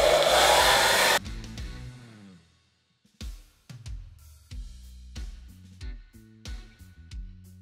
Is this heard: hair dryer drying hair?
yes